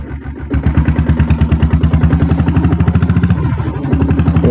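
A Royal Enfield Bullet motorcycle with a 7.5 HP self-start diesel engine runs close by, its loud steady single-cylinder thump beating in an even rhythm after a quieter start.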